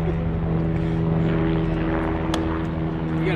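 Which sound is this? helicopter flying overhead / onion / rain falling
helicopter flying overhead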